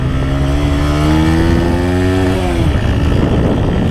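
A motorcycle engine revs loudly up close, pitch climbing then dropping back to a rough, throaty idle.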